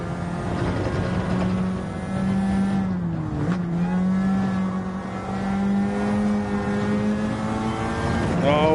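On-board engine of a CASCAR stock car in Gran Turismo 7 at Watkins Glen, a loud steady drone that dips briefly as the throttle eases off out of a corner, then holds high again, heard with no talk.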